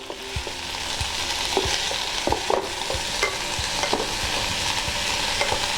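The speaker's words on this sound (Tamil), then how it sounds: "நல்லா இந்த மல்லி ஒரு 2 நிமிஷம் கொஞ்சம் லேசாக வதங்குற வரைக்கும் வதக்கணும்." Coriander leaves sautéing in a pan for Chettinad-style chutney, with steady frying sizzle and repeated stirring scrapes throughout, close and moderately loud, no talking.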